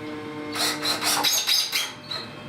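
A screwdriver drives screws into a furniture side panel, giving several close whirring, scraping bursts in quick succession that stop briefly, then one shorter burst.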